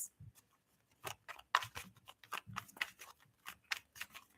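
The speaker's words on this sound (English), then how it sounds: "I normally don't shuffle so much this deck, but I'm being told to keep shuffling." A deck of oracle cards is shuffled by hand in close, quiet bursts of rapid riffling and flicking, with brief pauses between them and no talk.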